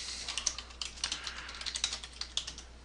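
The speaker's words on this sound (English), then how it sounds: "So what we're going to do right now is just type in the website title" Keys clatter steadily on a computer keyboard as a website title is entered into a WordPress blog form, a close run of crisp irregular taps with no voices.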